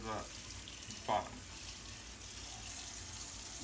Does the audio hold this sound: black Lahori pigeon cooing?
no